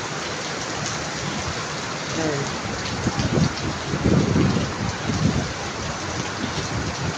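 Heavy rain pours down during a flood in Lavanya, a dense, constant roar with low rumbling surges of thunder in the middle, and someone briefly speaks over it.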